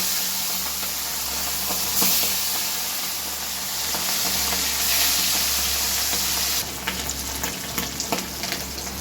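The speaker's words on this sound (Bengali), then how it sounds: "তেল গরম হয়ে গেছে। এবার মাছগুলো শুধু এপিট ওপিট করে হালকা নেড়ে নেবে।" Fish, likely hilsa, fries in hot oil, a continuous close sizzle with soft spitting that turns sharper and more crackly near the end as the pieces are turned.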